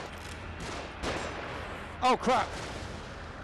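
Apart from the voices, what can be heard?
enemies shooting guns in video game The Evil Within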